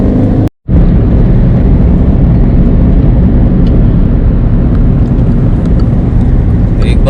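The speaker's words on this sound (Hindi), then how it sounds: "ये सिलीगुड़ी आ गए हम लोग अब, बहुत ट्रैफिक है।" Dense road traffic in Siliguri, India, heard from inside a car as a steady, loud broadband rumble of engines and tyres with faint distant horn-like tones near the end and a brief dropout near the start.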